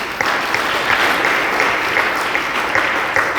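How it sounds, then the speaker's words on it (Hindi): Audience at a temple sermon applauding steadily, a dense sustained clapping from a gathered crowd with no voices over it. "ये सब लोग इसके लिए तालियां बजाएं"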